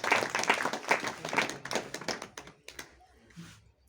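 A church congregation claps in a quick, uneven burst of many hands that gradually thins and fades toward the end.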